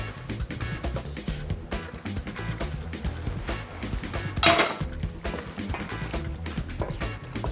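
Carbonara pasta tossed with flavorful oil, beaten egg and a splash of pasta water in a bowl, giving steady wet squishing and clattering of utensils against the bowl, with a brief louder scrape midway.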